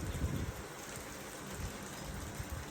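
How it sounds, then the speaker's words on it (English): Rain falls steadily outdoors as a soft, even patter with faint drips, quiet and continuous throughout, with no voices. "It's raining, so I can't really."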